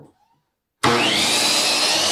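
A saw cuts through a wooden fence picket: after a short quiet moment the cut starts abruptly and holds a loud, steady, close-up rasping whine to the end, with no talking.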